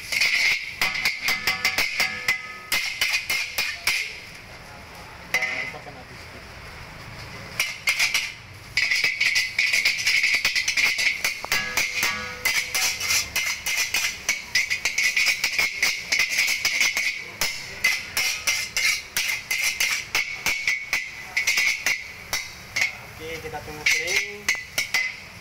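Fried Aceh noodles being stirred in a pan, with a rapid, continuous clinking and scraping of a metal utensil against the pan that pauses briefly a couple of times.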